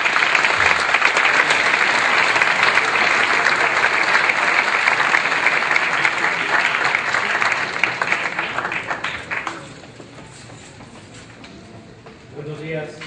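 Sustained audience applause welcoming a speaker at a law symposium, loud and dense for most of the span before thinning out and fading, with a voice starting to speak near the end.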